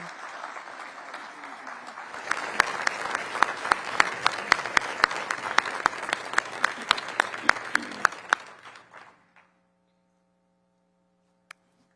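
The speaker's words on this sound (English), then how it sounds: "A huge round of applause for these heroes this morning." An audience at a Patriot Day remembrance breakfast bursts into applause that builds and continues for several seconds, with crisp individual claps, then stops abruptly and leaves near silence.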